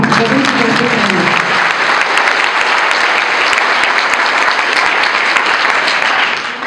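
Loud, sustained applause from an audience at a Constitution Day speech gathering, dense clapping that fills nearly seven seconds after a brief voice at the start and fades slightly at the very end.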